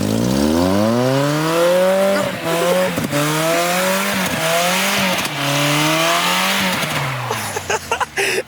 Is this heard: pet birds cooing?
no